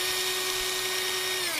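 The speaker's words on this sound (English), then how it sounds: "but I always prefer to use a drill." A power drill drives 2mm screws into an X-maxx RC car, giving one close, loud, steady whine that holds for about a second and a half before it winds down and stops.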